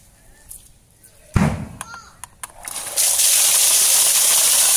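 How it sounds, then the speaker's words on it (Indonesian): A modified Jet 250 water pump starts with a heavy thud and a few clanks, then bursts into a loud, steady rushing spray of water that continues strongly to the end. "Semburannya begitu kuat, sangat jauh ya semburannya."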